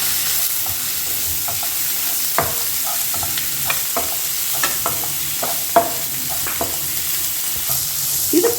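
Finely chopped big onions fry steadily in a pan for a soya mushroom gravy, a constant sizzle broken by scattered stirring clicks and scrapes, close and alone without any voices.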